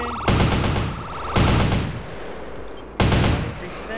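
SMG gunfire in GTA San Andreas, heard as three loud, close bursts of rapid automatic fire, each starting sharply and decaying, with short gaps between them.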